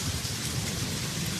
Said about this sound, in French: Mais la pluie ne cessait pas.